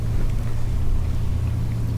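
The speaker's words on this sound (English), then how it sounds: "And so we're motor sailing now" A sailboat motor sailing offshore on the Atlantic, with a steady low engine drone and hull rumble running continuously under light wind noise, with no talking.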